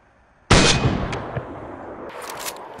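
A sniper rifle fires in the video game DayZ on PS5: one loud, sharp crack with a rolling echo tail, followed by fainter cracks and another report near the end.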